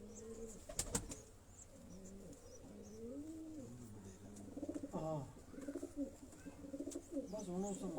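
Champion pigeons kept by a hobbyist in Havelian, Hazara, coo in repeated soft throaty calls, close by, mixed with a few sharp knocks and light handling sounds while someone talks nearby.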